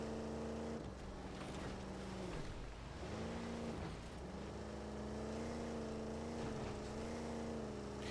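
Warthog vehicle engine in the Halo: Campaign Evolved video game, a steady droning hum that rises and dips in pitch as it revs, continuous and fairly quiet with no talk over it.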